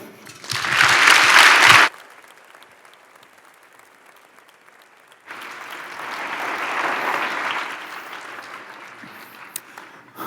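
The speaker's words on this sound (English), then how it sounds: "So please join me in giving an enormous round of applause to Dr. Rahul Jandial." An auditorium audience claps loudly to welcome a neuroscience speaker onto a London stage, a dense burst that cuts off abruptly, followed by quieter room noise and then a second, softer swell of applause.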